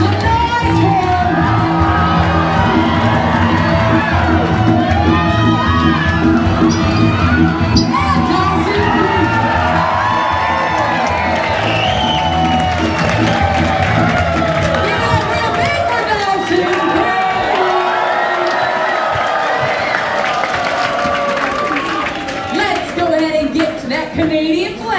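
A loud crowd aboard an Alaska cruise ship cheers, shouts and whoops without pause for competitors in an onboard race, a dense wall of voices close by throughout.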